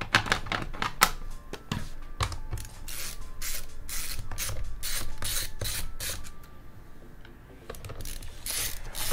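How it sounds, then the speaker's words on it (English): Screws are backed out of a Dell Inspiron 5567 laptop during battery replacement, a run of close, crisp mechanical clicks and ratcheting ticks in uneven bursts, with no talking. "as you're taking the screws out"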